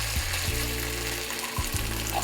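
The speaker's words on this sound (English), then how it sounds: "you're basically just gonna cook off some of this tomato paste" Tomato paste sizzling steadily in a hot pan for braised short ribs, a continuous close crackling hiss with occasional soft stirring scrapes and no talking.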